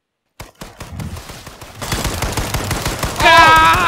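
Gunfire in the H1Z1 battle royale video game, a burst of rapid shots building to loud, dense firing near the end of the short stretch.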